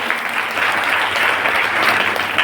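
Dense, steady clapping fills the hall at a satsang gathering, loud and sustained with no voices over it.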